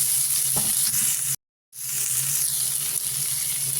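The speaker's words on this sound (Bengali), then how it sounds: "দিয়ে দিয়েছি, পেঁয়াজ কুচি, তেজপাতা একটি আর কাঁচা লঙ্কা একটু ভাজা হতে" Chopped onion, a bay leaf and green chilli frying in oil make a steady, close hiss of sizzling, broken by a brief moment of silence midway before the frying resumes.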